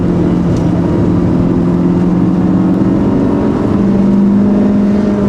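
Proton Satria Neo CPS hatchback on a test drive, engine held in second gear around 4,000–5,000 RPM, a loud steady droning rev heard from inside the car with no speech.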